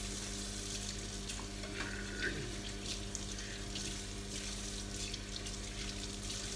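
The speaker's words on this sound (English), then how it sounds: "Then we can just rinse it off." A kitchen knife rinsed under a running tap, steady splashing water with brief clinks and shifts as the blade moves through the stream, close and moderately quiet.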